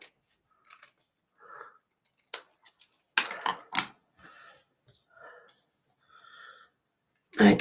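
Scissors trim the edges of a handmade card in a quiet room, a run of short, crisp snips and paper rustles spaced irregularly, with a cluster of louder cuts near the middle and a faint breath or two.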